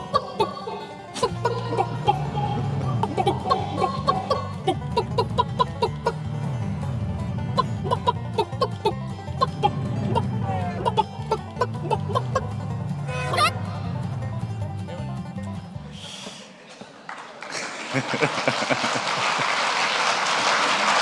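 A chicken in the Crossy Road video game clucks over busy, continuous game music and effects, with repeated bright clucks through most of the stretch before a sudden noisy burst near the end.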